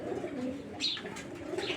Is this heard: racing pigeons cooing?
yes